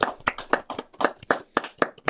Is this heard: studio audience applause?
yes